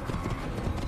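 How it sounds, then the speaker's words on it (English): Horse galloping in the video game Assassin's Creed: rapid, close, loud clip-clop hoofbeats in a brief burst. "Don't ride your horse too fast."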